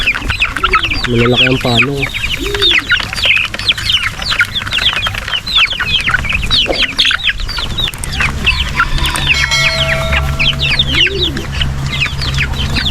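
A dense, busy flock of Rhode Island Red chickens and roosters cluck and squawk continuously close by, with a brief spoken phrase in the middle.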